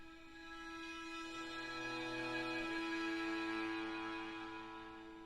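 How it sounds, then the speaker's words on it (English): Simple sustained violin string parts open a song intro, layered bowed notes swelling gently and holding steady, then easing off toward the end with no voices. "So at the beginning, you'll hear the strings sound like this."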